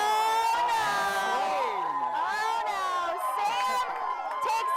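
A studio audience at a sports show cheering and whooping for a contestant, a sustained, fairly loud crowd roar with shouts and screams rising over it.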